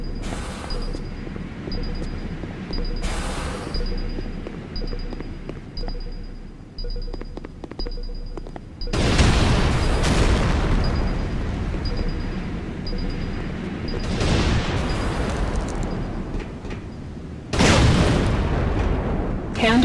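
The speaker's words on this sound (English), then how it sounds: "C4 is set. Fire in the hole!" C4 explosives detonate in the Renegade video game, several loud broadband booms with rumbling tails that come in bursts against a background of game noise and a voice.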